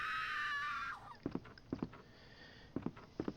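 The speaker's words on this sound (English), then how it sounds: "Yeah, you heard that scream, we're gonna find out who it is shortly." In Resident Evil 2, a loud, high scream rings out for about a second and then cuts off, followed by a few quieter paired thuds like footsteps.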